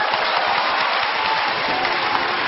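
A studio audience at a Chinese TV job-hunting show gives a steady burst of applause that stays even and dense throughout.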